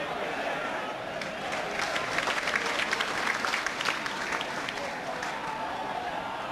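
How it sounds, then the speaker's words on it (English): A football crowd applauds and cheers a penalty goal by Plymouth Argyle against Wycombe Wanderers in a 1998/99 match, a steady, dense wash of clapping from a distant stadium audience that swells briefly in the middle. "Nice to cheer a goal as well."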